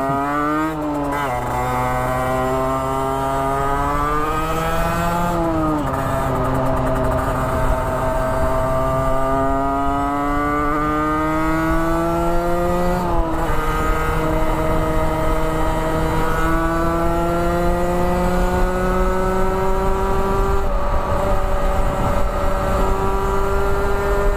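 A 50cc motorcycle engine runs steadily close by and revs repeatedly, its pitch climbing in long rising sweeps, dropping back, then climbing again, loud and continuous throughout.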